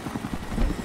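Video game helicopter rotor thumping steadily and fairly loud, a low rhythmic chop throughout with no talk.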